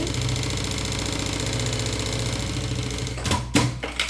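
Sewing machine running steadily while stitching a seam on a sublimated fabric toiletry bag, a continuous close mechanical whir with a short burst of louder handling noise near the end.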